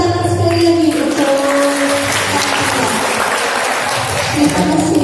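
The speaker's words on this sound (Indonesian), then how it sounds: "Ya, beri tepuk tangan sekali lagi untuk" Audience applause at an Islamic gathering for STIE BPD with an ustadz, a dense steady roar of clapping filling the room, loud throughout with some voices mixed in.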